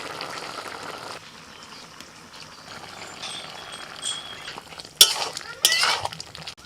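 Poppy seed paste being stirred into a ridge gourd and potato curry in a wok, soft scraping and wet stirring with a low simmer, then a few sharp metal clanks of the spoon against the pan near the end.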